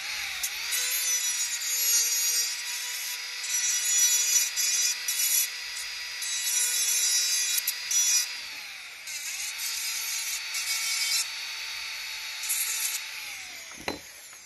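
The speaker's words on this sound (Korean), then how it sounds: "직접 틀로 이렇게 긁어 보면 걸리는 부분이 있어." A frame tool is dragged directly across a surface to find spots where it catches, producing a steady close rasping scrape that runs through most of the stretch with short breaks, ending in a sharp knock.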